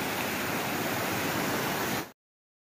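Stream water flowing along an Appalachian trail, a steady, full rushing wash heard close and loud for about two seconds before cutting to silence.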